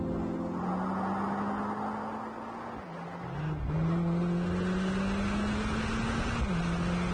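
A compact Mercedes-AMG car with a powerful front-mounted engine accelerates through its gears, the droning engine pitch climbing steadily, dipping at each shift and rising again, loud and close with no voices.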